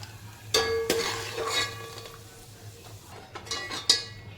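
Peanuts roast and get stirred in a little oil in a pan, with a handful of clear scraping and clinking strokes over a low, steady hum and faint crackle.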